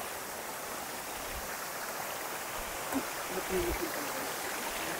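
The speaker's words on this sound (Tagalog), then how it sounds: "Ang taas talaga ng falls." The tall Hinabaan Falls in Guinayangan, Quezon, a broad steady roar of falling water that stays even throughout, with a voice briefly heard over it.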